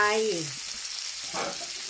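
Fried rice with corn, peas and sausage frying in a pan, a brief loud sizzle and stir at the start that fades into a quieter hiss with a faint scrape near the end.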